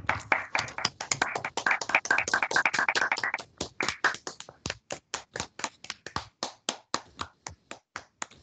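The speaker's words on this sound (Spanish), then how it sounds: "Un aplauso para esas presentaciones." An audience claps for student presentations at a recognition night for dual-program students, starting as dense applause and thinning into a sparse, distinct run of individual claps.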